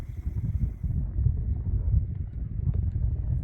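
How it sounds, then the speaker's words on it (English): Steady low wind rumble and buffeting across the microphone on a cloudy, cooling Red Rock hike, continuous and fairly loud with no voices. "It's getting really windy, getting a little colder, cloudy."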